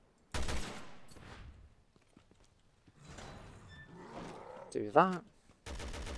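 Sharp bursts of gunfire from Resident Evil Revelations 2 open and close the stretch, loud and broadband, with someone talking in between.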